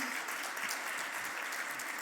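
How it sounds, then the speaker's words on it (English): Steady audience applause fills a business conference plenary breakfast, dense and even throughout with no voices rising above it. "I think she deserves a round of applause."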